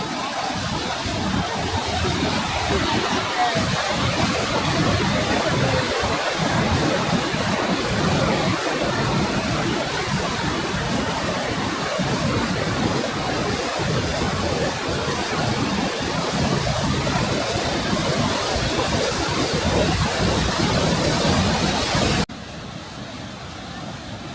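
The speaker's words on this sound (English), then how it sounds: "I don't know if you can be able to hear me or not with the raging water" At the bottom of Johnston Canyon Falls in Banff, a raging waterfall roars as a loud, dense, continuous rush close by, steady for over twenty seconds before dropping slightly at the end.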